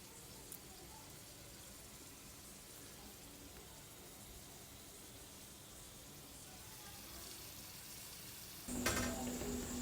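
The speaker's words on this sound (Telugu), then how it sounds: "అటు అటు తిప్పుతున్నా గోల్డెన్ ఎల్లో కలర్ వచ్చే వరకు ఫ్రై చేసుకోవాలి" Chilli bajji fritters deep-fry in hot oil, giving a faint, steady sizzle that grows a little louder near the end, with a light clatter at the close.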